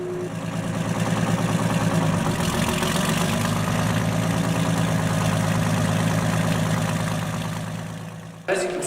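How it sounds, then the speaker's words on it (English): A tall farm tractor built for spraying over corn idles with a steady, even rumble that holds unchanged for several seconds before a brief thump near the end, with no talking. "As you can see, this is a tall tractor"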